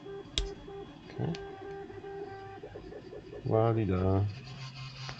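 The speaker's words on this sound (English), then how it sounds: "That's my printer singing in the back. My other printer singing." A Prusa i3 clone 3D printer prints a part for flight simulator rudder pedals, its stepper motors singing in steady tones in the background while a voice briefly hums along.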